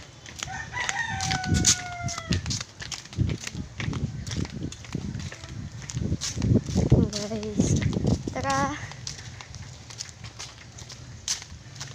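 Turkeys gobble and warble in a few short outbursts while people talk nearby and footsteps shuffle.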